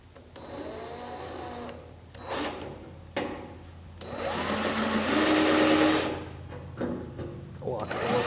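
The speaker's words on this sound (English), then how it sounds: "I'm going to be able to go ahead and just drill those out a little bit" A power drill whines and grinds through spot welds in rusted sheet metal on a 1950 Chevy truck fender flange, in several bursts, pitch rising and falling as it bites, with brief pauses between.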